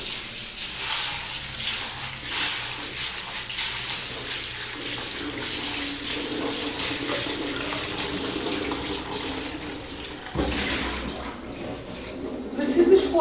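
Brown rice and lentils rinsed under a running kitchen tap, a steady broad rush of water with splashing and grain swishing, close and continuous for the whole stretch, with a brief shift in the flow near the end.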